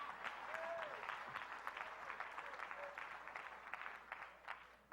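An audience claps throughout at a leadership talk, a steady wash of many hands with scattered sharper claps standing out, moderately loud and fading slightly toward the end.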